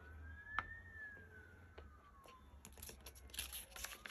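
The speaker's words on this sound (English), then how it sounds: "Can you guys hear the sirens?" A distant fire department siren wails faintly, rising and falling in a long sweep, followed by scattered soft clicks and taps nearby.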